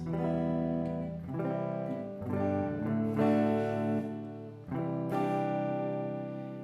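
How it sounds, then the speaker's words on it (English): Guitar chords ring out in a series of strums, each sustained and changing, with four or five distinct chord hits spread evenly and heard up close, no talking. "So chords are basically when we hear something that sounds like this"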